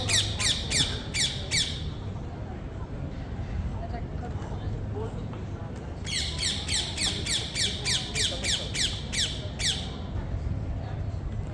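A parrot in Athens shrieks at a cat in two bursts of rapid, piercing squawks, the first short and the second longer, with quieter background noise between them.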